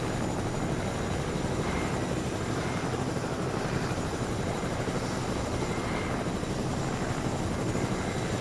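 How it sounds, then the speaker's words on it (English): Helicopter in the video game Fortnite, a dense, continuous rotor and engine roar that stays loud and steady throughout, with no speech. "I can jump off the helicopter and use the arcane jump to glide down"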